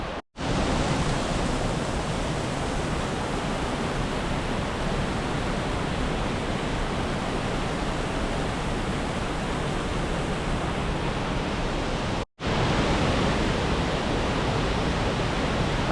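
Waterfall chute in Oneonta Gorge, Columbia River Gorge, roars as a loud, steady broadband rush of falling water with no pauses, apart from one sharp dropout near the end.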